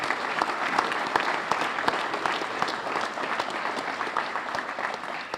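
Sustained audience applause fills a Chamber of Commerce legislative breakfast forum, a steady dense wash of many hands clapping at even loudness throughout, with no speech over it.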